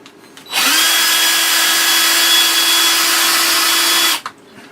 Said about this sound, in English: So you drill 2 holes in the lid.